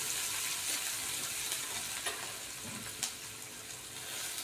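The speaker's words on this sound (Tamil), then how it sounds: "வெங்காயம் தக்காளி சீக்கிரமாக வதங்கிறதுக்கு போகிறது." Onion and tomato sauté in a pan with a little turmeric, a soft, steady sizzle heard close with a few faint clicks of stirring.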